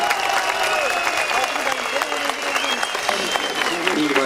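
Steady, loud applause from a crowd at a handover ceremony in Tokat, Turkey, continuous clapping throughout with no pauses.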